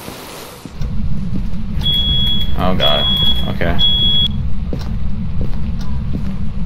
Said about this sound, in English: this house is so well simulated, even the fire alarm works